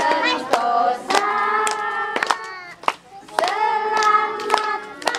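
Guests clapping at a child's fifth birthday party, several bursts of hand claps mixed with sung and cheering voices, moderately loud and close.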